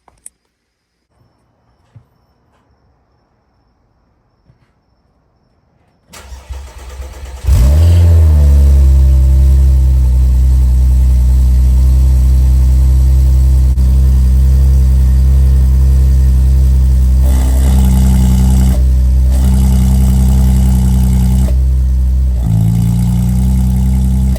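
Audi A6 3.0T with an ECS Tuning valved exhaust, first near-silent with faint clicks, then a loud cold start that flares up and settles into a deep, steady idle, with several throttle blips swelling the exhaust note later on.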